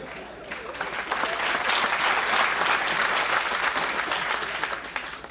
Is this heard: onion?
no